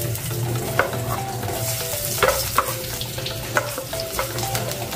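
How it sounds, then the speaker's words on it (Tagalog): Garlic hits a hot pan for dinuguan and fries with a steady, close sizzle, a few louder crackles and pops breaking through, no voices. "So ilalagay na natin yung bawang."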